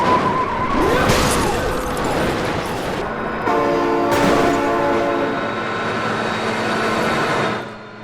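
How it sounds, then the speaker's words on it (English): Train horn in the BeamNG driving video game sounds in two long, loud blasts, with rumbling rail noise and a screech of skidding in between and underneath. "Oh my god, train!"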